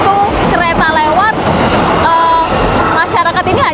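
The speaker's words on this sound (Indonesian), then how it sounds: "selama kereta api lewat tidak ada sama sekali suara peringatan" A train rolls past an unguarded level crossing in Indonesia with no warning signal sounding, a loud continuous rumble and rattle with squealing tones over it, and a person talking throughout.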